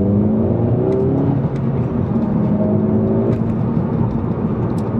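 A Volkswagen GTI MK5 accelerates hard in first gear, its engine note rising steadily and loudly throughout, close up with continuous road and wind roar and no talk.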